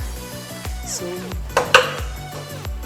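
A lemony homemade dip stirred in a bowl, with a utensil scraping and knocking against the sides in a regular rhythm and two sharper clinks near the middle, close and clear.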